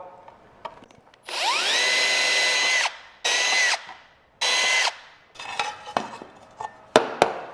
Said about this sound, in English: Drill them all out.